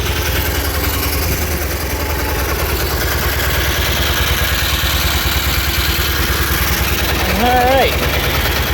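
A steady engine idles in a shed, a continuous low rumble running throughout, with a brief rise in pitch near the end as it is throttled up; a person speaks briefly over it.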